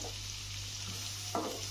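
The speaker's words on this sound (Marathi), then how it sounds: "मी एक मध्यम आकाराचा कांदा कट करून घातलेला आहे. तर तो आपल्याला सॉफ्ट होईपर्यंत परतून घ्यायचा आहे व्यवस्थित." A medium onion, cut and sautéed in a pan until soft for a makhana cashew curry, gives a soft, steady frying hiss with a low background hum and a brief stirring scrape near the end.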